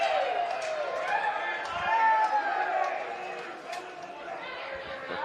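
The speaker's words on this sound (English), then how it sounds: "Just listen to that crowd." A crowd at an indoor lawn bowls hangar during a Platinum Pennant semi-final murmurs and chatters steadily, a dense, fairly loud wash of many voices reacting to a shot, with scattered sharper calls rising above it.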